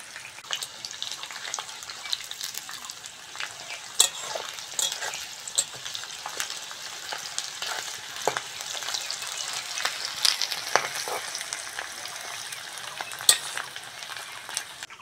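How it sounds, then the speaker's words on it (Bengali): Banana flowers deep frying in oil, a continuous crackling sizzle with scattered pops and occasional stirring, fairly quiet and close. "কলার ফুলগুলো বেশ লাল লাল করে ভেজে নিয়েছি, এবার তুলে নেব তেল থেকে।"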